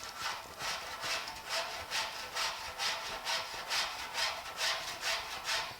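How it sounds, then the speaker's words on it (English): A cheese grater rasps across semi-soft body filler on a 1950 Chevy truck splash guard, making steady rhythmic scraping strokes, about two per second, close and moderately quiet with no talking. "we're just going to go ahead and cheese grate this a little bit"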